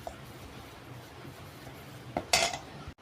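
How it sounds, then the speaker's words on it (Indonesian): Wheat flour being stirred together with seasoned flour in a bowl, soft scraping with a few sharp clinks of utensil against the bowl near the end, faint and close. "Kemudian campur tepung terigu dengan tepung bumbu. Ini kita aduk sampai tercampur rata."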